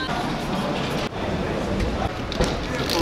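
Rumbling interior of a passenger train riding from Poznań back to Warsaw, a constant low roar with faint rattles and a few clunks, with some indistinct voices in the background.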